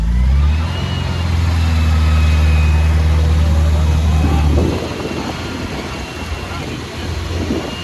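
An MGB car engine with a new exhaust idling close by, a steady low rumble for about four seconds that then gives way to rougher wind and outdoor noise.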